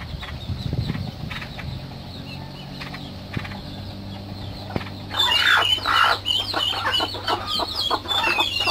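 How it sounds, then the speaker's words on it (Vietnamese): A brood of chickens clucks and squawks in quick, overlapping bursts that grow louder partway through, following a quieter stretch of faint background sounds. "Đây bầy gà nở nữa rồi các bạn."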